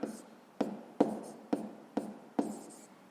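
Pen strokes tap and scratch on paper in a steady rhythm, about every half second, close and fairly quiet, as a sixth-grade math exercise is worked out by hand.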